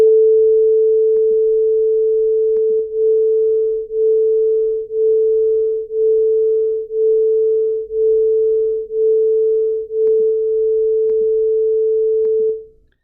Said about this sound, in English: the first tone will be played at 440 hertz